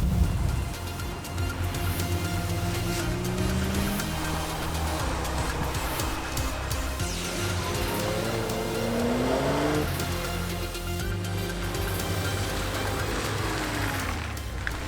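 A Nissan Skyline GT-R R34 engine revs up and down through several gear changes on its 6-speed manual, rising in pitch, dropping at each shift, and climbing again, loud and continuous.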